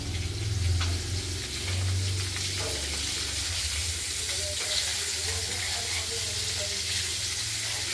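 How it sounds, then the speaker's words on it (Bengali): Katla fish pieces fry in hot oil with a loud, continuous crackling sizzle and occasional stirring clatter, steady throughout with a low hum beneath. "মাছগুলো ভাজা হচ্ছে দেখতে থাকো"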